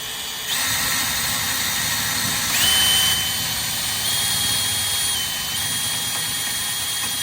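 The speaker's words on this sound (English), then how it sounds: "I'm going to go ahead and drill the pilot hole in there" A steady loud whirring power drill boring a pilot hole in a Toyota Tacoma runs continuously, close up, with a slight rise in pitch partway through and no voices.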